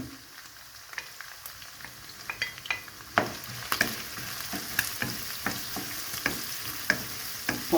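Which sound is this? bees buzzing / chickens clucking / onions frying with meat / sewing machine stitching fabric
onions frying with meat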